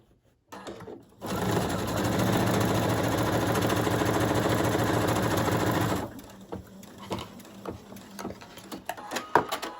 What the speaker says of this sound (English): Another zigzag stitch.